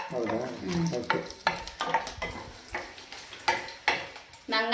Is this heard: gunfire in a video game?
no